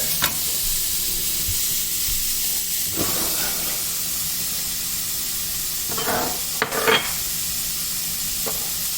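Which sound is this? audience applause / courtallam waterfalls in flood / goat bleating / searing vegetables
searing vegetables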